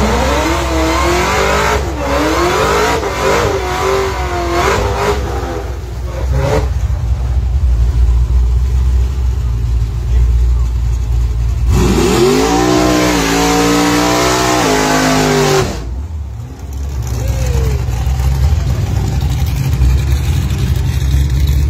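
A Nissan 240 race car accelerates hard at a street racing meet, its engine rising and falling through loud revs and gear changes, roaring past close by with tire noise over continuous road rumble.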